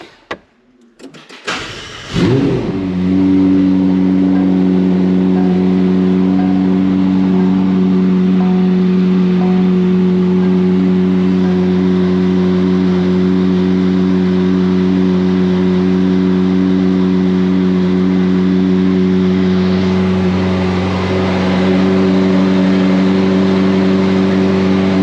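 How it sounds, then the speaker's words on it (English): A McLaren MSO Sabre's engine cranks and fires with a sharp burst, then settles into a loud, steady, raspy idle held close by for over twenty seconds, with a slight rise near the end. "And speaking of, let's start it up."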